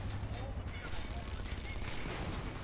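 Heavy gunfire from big guns in Red Faction: Guerrilla, a dense continuous barrage of shots and booms that fills the whole stretch at steady loudness with no pauses.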